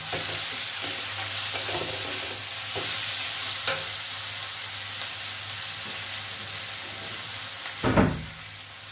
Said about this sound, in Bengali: এবার এটাকে অনবরত নাড়িয়ে যাবো।